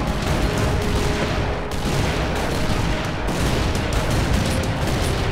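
Dense, continuous video game gunfire, a loud unbroken fusillade of overlapping shots and impacts with a couple of brief dips in intensity.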